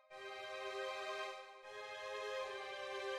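A sustained string pattern with randomized velocities plays in a beat, two long bowed chords held in succession with a brief dip between them, steady and upfront with no talk.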